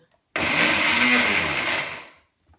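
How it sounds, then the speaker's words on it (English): A kitchen blender whirs loudly for about two seconds as it purées fresh herbs into a paste, starting abruptly and winding down to silence. "Now let's blend."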